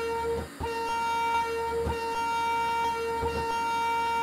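A train horn in a train simulator video game holds a steady, bright tonal blare through the whole stretch, with a few low thumps and brief swells rising under it, and no talking.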